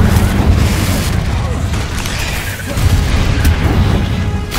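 Fiery Confringo spell blast in Hogwarts Legacy, a loud booming explosion with crackling bursts that rumbles on for several seconds, and a voice calls out over it.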